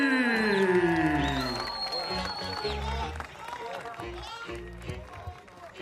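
A large boxing crowd in Riyadh roars and cheers after a professional debut win, a broad swell of whoops and applause under a commentator's voice, fading slightly toward the end.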